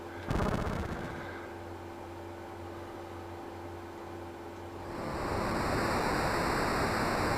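Steady rushing water fills the scene in Super Mario RPG: Legend of the Seven Stars, growing louder and fuller partway through, with faint tonal hum beneath and no voices.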